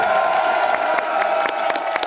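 An audience applauds and cheers continuously, dense clapping with scattered louder claps and whoops rising over a steady crowd roar.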